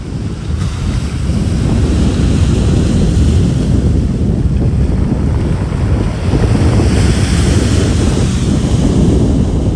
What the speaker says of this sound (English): enjoy that beautiful sound of the waves